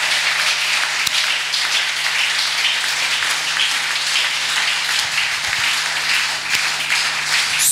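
A church congregation claps loudly for the word of God, a dense, steady wash of many hands that fills the space and holds evenly from start to finish.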